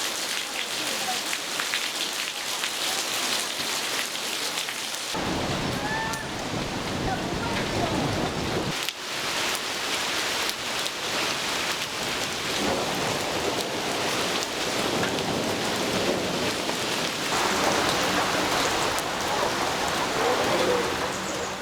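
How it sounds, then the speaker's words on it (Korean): Autumn rain falls steadily on a quiet mountain Buddhist temple, Magoksa, a dense, even patter on roofs and ground that continues throughout at a fairly loud, close level, with brief shifts in texture. "고요한 산사에 빗소리가 가득합니다."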